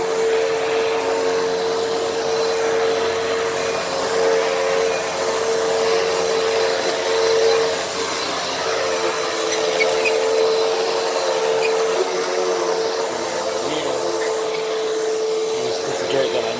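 A Hoover WindTunnel vacuum cleaner runs continuously over a dirty rug, a loud steady motor whine with a fixed tone and rough brushing texture throughout.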